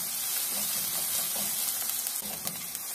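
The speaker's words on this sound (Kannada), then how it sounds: "ಇದನ್ನು ನೀರುಳ್ಳಿ ಎಲ್ಲ ಸ್ವಲ್ಪ ಟ್ರಾನ್ಸ್ಪರೆಂಟ್ ಆಗಬೇಕು, ಅಲ್ಲಿವರೆಗೆ ಫ್ರೈ ಮಾಡ್ಕೊಳ್ಬೇಕು." Chopped onions fry in a pan for a Kannada-style rice dish, giving a steady, close hiss and crackle of sizzling oil with faint stirring scrapes, continuous and unbroken with no talk.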